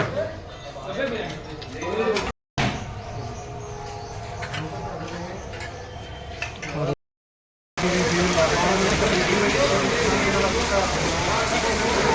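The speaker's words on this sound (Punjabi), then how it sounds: "ਹੁਣ ਤੇ ਮੀਂਹ ਫੇਰ ਆ ਗਿਆ" Steady rain falling outdoors at a langar during a religious anniversary gathering, a continuous dense patter that stays loud throughout, with brief dropouts.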